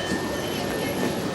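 A train at a National Rail platform rumbles close and loud in a steady, broadband roar with a faint high whine, lasting the whole short moment.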